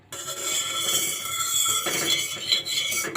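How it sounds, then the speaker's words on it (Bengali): Ghee going into a hot karahi and being spread around its surface, heard as a steady close scraping and sizzling hiss with light metallic clinks of a utensil against the pan, no talking. "তো এখন আমি কড়াইতে ঘি দিয়ে দিব।"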